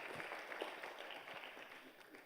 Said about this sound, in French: Coup d'acclamation pour Maître Wafo, docteur en droit fiscal.